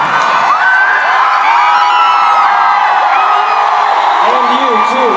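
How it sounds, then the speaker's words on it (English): Concert crowd at a rock show, a steady loud roar of cheering, whoops and shouts filling the whole stretch, with voices audible through the din. "what are you cheering about sitting down over there too?"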